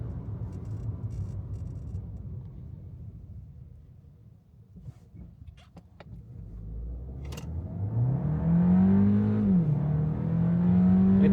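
Kia Sportage facelift with a 1.6 T-GDI engine and 7-speed dual-clutch gearbox, accelerating at full throttle without kickdown on a road in winter tyres, engine note climbing steadily in pitch through a gear change, heard from inside the cabin.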